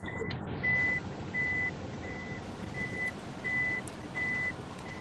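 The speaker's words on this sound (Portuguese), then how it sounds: "Tem alguém com o som ligado que está no trânsito, pelo jeito" Street traffic with a truck's reversing alarm picked up by an open microphone: a steady series of about seven evenly spaced electronic beeps over a rumbling traffic background.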